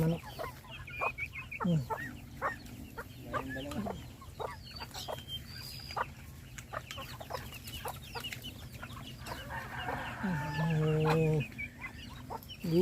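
Chickens cluck in short, scattered bursts near and far, with a few longer calls rising over the flock and a faint voice now and then.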